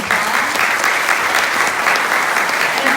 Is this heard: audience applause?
yes